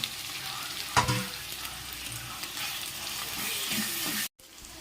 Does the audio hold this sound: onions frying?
yes